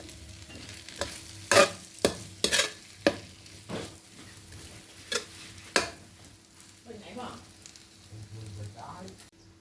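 Pad thai noodles with green onions stir-fried in a pan: a spatula scrapes and clacks sharply against the pan in a quick burst of strokes, then softer stirring, over a low steady sizzle.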